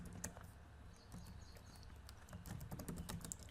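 Code typed on a computer keyboard, quick irregular clicks and taps of keys, close and quiet, with brief pauses and bursts of faster typing.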